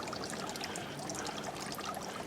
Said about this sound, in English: that lovely water feature